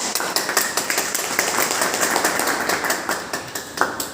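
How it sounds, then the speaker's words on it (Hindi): Audience applause at a small indoor gathering, dense hand clapping with sharp individual claps standing out, fairly close and loud, sustained evenly throughout without talk. "एक बार जोरदार तालियों की"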